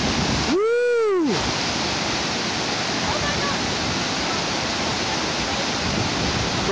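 Floodwater rushes through city streets in Colorado Springs as a loud, steady, unbroken roar, with a short rising-and-falling vocal whoop near the start.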